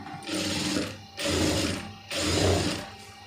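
A tailor's sewing machine stitches grape silk cloth in three steady bursts of rapid mechanical whirring, each about a second long and separated by brief pauses, close and clear.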